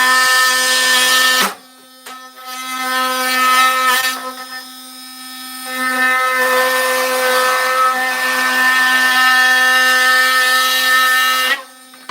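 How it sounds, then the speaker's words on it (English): Thin hand saw or power saw cutting through wet wood in a woodworking shop, running loud and steady with a strong tonal whine, pausing briefly twice before stopping near the end. "maybe I'm going to cheat a little bit and just take the thin saw and cut some of them out"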